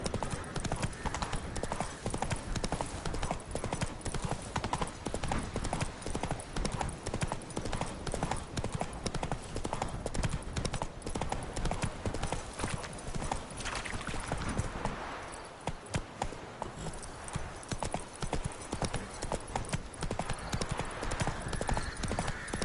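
Horse hooves in The Witcher 3: Wild Hunt beat out a steady, fast clip-clop for most of the stretch, loud and close, briefly easing midway before the galloping rhythm resumes, with a faint whinny and background game sound.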